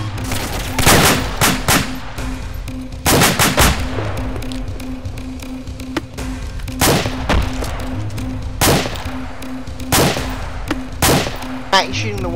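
Heavy gunfire and artillery blasts in the military video game Arma, loud repeated booms and bursts of shots spread across the whole stretch, with a steady low rumble and brief talk underneath.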